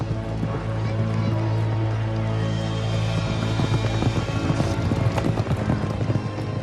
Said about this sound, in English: Horse racing at Ludwigslust.